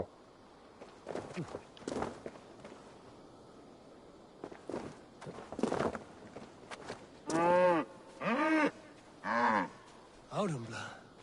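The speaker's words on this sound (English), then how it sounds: "It's a cow." Audumbla, a cow in Assassin's Creed Valhalla, lets out several long, deep moos in the second half, spaced a second or so apart, after a stretch of footsteps and scattered thuds.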